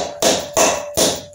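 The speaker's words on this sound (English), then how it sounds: "so I've put the head studs in and then I'm tapping it down" A Triumph Trident T160 motorcycle cylinder head, fitted over its head studs, is tapped down with three loud, evenly spaced blows, each followed by a short ringing decay.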